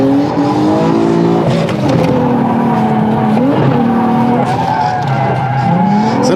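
Simulated racing car in a driving game drifting with handbrake flicks, engine revving loud and steady while pitch swoops through gear changes from third down to first, tyres squealing continuously throughout.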